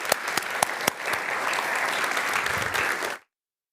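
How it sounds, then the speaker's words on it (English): Lecture audience giving warm applause for sociologist Hartmut Rosa, a few sharp individual claps swelling into full, steady clapping that cuts off abruptly after about three seconds. "I would like to have a warm applause for Hartmut Rosa already"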